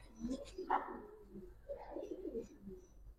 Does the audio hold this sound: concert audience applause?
no